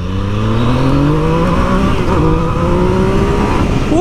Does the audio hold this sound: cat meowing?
no